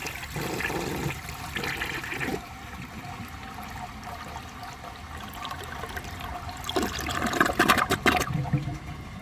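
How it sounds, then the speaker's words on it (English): A 1980 Crane Radcliffe toilet flushes with a strong rush of water that fades into a trickle, then surges again in a loud gurgling burst near the end, close by with no talking. "I'm gonna give this another flush, see how much of that stuff it can take"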